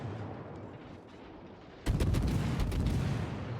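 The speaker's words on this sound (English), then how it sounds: "I'm going to keep firing on this Bismarck." Naval gunfire from a ship firing on the German battleship Bismarck in the World of Warships video game: a quieter rumble, then a loud sustained barrage of booming shots crackling together, with no talk over it.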